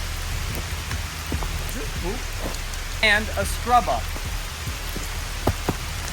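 Outdoor rain falls steadily as a continuous patter and hiss under intermittent chirping voices and speech, with a few sharper drip taps.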